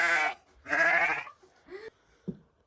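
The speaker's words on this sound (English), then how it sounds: "what lovely sheep" Sheep bleating on a farm, two long loud wavering bleats close by, followed by a few short fainter calls and gaps of quiet.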